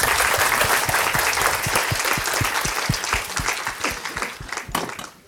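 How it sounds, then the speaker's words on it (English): Audience applause closing a talk by a senior research scientist, loud sustained clapping from a fair-sized crowd with distinct sharp hand claps throughout, tapering slightly toward the end. "A round of applause"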